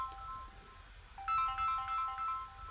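A phone ringtone chimes in a repeating melodic pattern of bright tones, moderately loud and close, starting partway through and continuing to the end with no talk over it.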